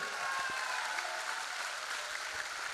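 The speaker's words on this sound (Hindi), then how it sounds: "हम चाहेंगे एक जोरदार तालियां होना चाहिए" Audience applause at a leadership speech, a faint but continuous rush of many clapping hands heard from a distance, steady and unbroken throughout.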